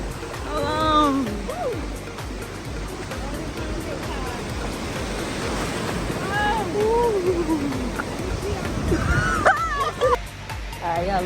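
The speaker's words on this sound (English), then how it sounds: "a little quick update on the beach" Ocean waves wash at a beach as a rolling, rushing surf under excited shouts and voices that rise and fall throughout.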